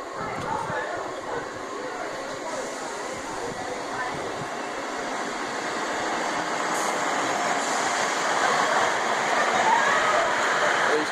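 East Midlands class 158 unit 158773 pulls into platform 2 at Wymondham station, a steady broadband diesel rumble and rolling noise that grows gradually louder as it nears, with no clear voices over it.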